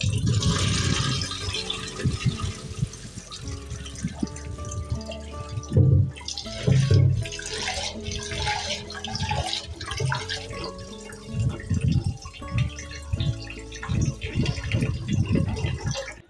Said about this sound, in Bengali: এখন ভাতের জন্য চালটা ধুয়ে নিচ্ছি